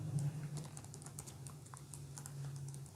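Quiet, steady typing on a computer keyboard, a soft run of light keystrokes over a low constant hum, with no talking.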